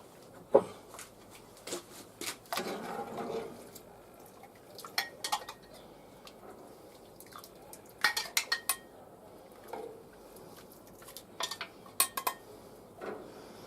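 Pea and ham soup ladled from a Dutch oven into a bowl, with scattered clinks and scrapes of a metal utensil against cookware at close range, fairly quiet, with no talking.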